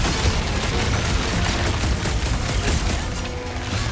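Blasters fire in a rapid, continuous gunfight in the video game Guardians of the Galaxy, a loud, dense volley of crackling shots with no pauses.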